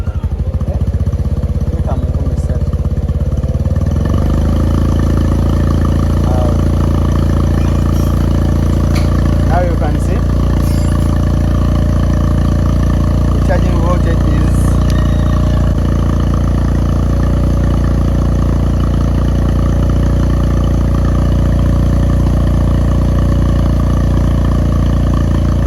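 A Yamaha TMAX 500 scooter with a failed charging system, held at about 3,000 rpm, gives a steady, loud mechanical drone with faint clatter, while someone talks over it.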